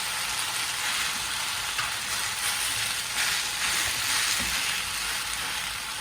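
Potatoes frying in oil in a pan, a steady soft hiss and sizzle that stays even and fairly quiet, with faint occasional scraping, no voices.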